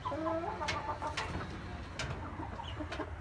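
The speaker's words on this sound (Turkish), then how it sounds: "Tavukları da komple buraya topladık." Chickens cluck and coo close by inside a village coop, several birds overlapping in a steady, busy chorus over a low background hum.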